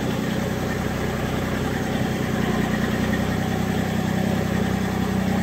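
A Massey Ferguson GC1720 compact tractor with a backhoe idles steadily nearby inside a tight shop. Its engine gives a loud, even, vibrating drone throughout, and no one speaks.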